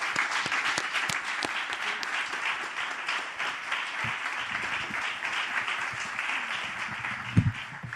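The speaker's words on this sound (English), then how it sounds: "Let's give them a round of applause." An audience applauds panelists at the close of a festival discussion in Montreal, a dense, steady wash of clapping from a room of people that holds even throughout.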